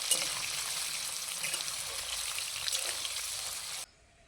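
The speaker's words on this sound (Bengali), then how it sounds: "পেঁয়াজগুলোকে লাল লাল করে ভেজে নেব।" Chopped onions fry in hot oil with a steady, bright sizzle and occasional stirring, close and constant before cutting off abruptly near the end.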